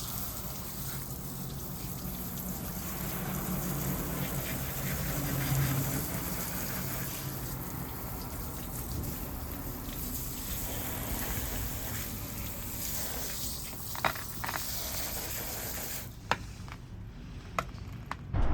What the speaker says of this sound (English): and I could just hose off the bag.